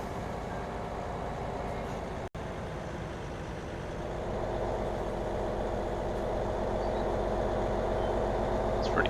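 Steady engine drone of a John Deere farm vehicle driving in a farming video game on the Marwell Manor Farm map, a continuous low rumble that grows slightly louder midway, with no talk.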